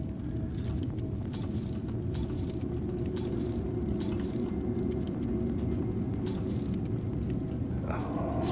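Keys being picked up in an Elder Scrolls video game: several bright metallic jingles and clinks in quick bursts over a steady low rumble, no talk.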